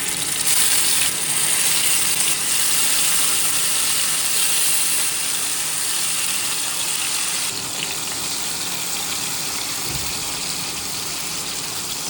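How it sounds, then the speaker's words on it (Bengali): Brown sugar caramel sizzling and bubbling in a pan, a loud steady hiss with a continuous frothy crackle throughout and no voices. "এই যে এখানে তৈরি করছি ক্যারামেলটা।"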